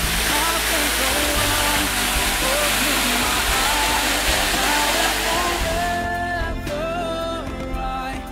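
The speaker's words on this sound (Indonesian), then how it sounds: "Di daerah ini mengalir sungai Wai Balak" The Wai Balak river near Dusun Talang Pondok rushes loudly as a steady broadband roar, with a voice speaking over it toward the end.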